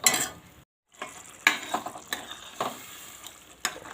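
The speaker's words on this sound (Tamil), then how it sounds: "இப்போ இது நல்லா சேர்த்து கொதிக்கட்டும்" Kadai paneer gravy with added water bubbling and sizzling in a pan on the stove, with steady frying hiss broken by soft pops and occasional stirring clicks, close by and with no voices.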